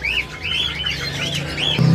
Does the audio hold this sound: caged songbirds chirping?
yes